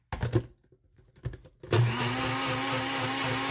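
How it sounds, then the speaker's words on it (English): A countertop blender mixing batter for a Milk Bar-style key lime cake kicks on partway through after a few brief clunks and knocks, then runs as a steady, loud whirring drone until the end. "technically it says blend on low, but I mean, this is the only blender I have"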